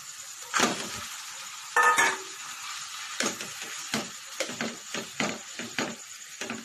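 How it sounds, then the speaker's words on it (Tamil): Boiled potatoes being mashed for aloo paratha stuffing in a pan, with repeated soft squelching presses and light scraping clinks of a utensil in an uneven rhythm, close and without talk. "உருளைக்கிழங்கு நல்லா மசிச்சுக்கோங்க."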